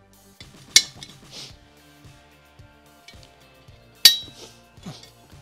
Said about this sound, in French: Un petit coup de pointeau.